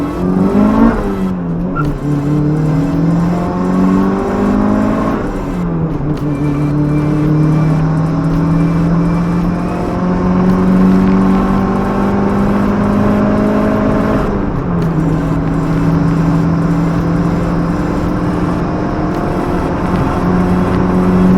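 A turbocharged Honda City Type Z engine revs repeatedly on a dyno, loud and close, pitch sweeping upward through each sustained pull before dropping back and climbing again.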